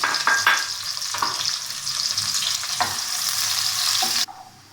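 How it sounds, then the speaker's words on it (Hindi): Steady sizzling of onions frying in hot oil with occasional stirring scrapes, fairly close, ending abruptly into quiet. "ऑयल हमारा गर्म हो गया है। अब हम इसमें प्याज को डालेंगे।"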